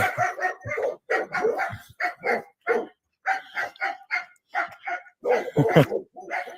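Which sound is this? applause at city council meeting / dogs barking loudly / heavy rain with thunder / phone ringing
dogs barking loudly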